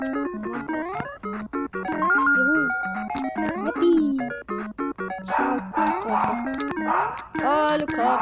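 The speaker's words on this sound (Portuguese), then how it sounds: "Cala a boca, cachorreira!" Dogs bark and yip repeatedly nearby, mixed in with lively Super Mario Bros game music and chirpy sound effects while a person talks over it.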